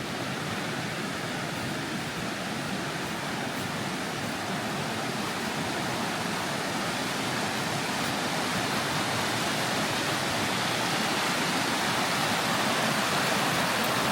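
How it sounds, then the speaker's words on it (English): Spruce Run Creek near the Nehalem River in Oregon, a continuous even rush of flowing water, close and steady for the whole stretch, with no voices. "small body of water right here is a creek"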